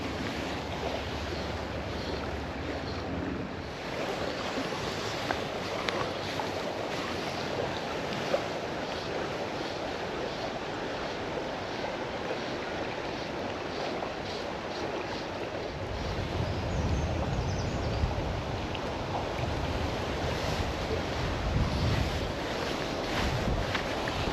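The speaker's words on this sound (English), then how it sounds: "It's a strong wind that." Strong wind buffeting the microphone on a river bank during dry-fly fishing, a constant low rumble and hiss that swells louder toward the end, with no voices.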